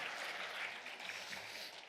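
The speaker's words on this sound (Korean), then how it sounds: "박수로 환영하며 하나님께 영광 올려드리겠습니다." A church congregation gives soft, steady applause in welcome, heard faintly and at a distance as a continuous wash of clapping that thins slightly toward the end.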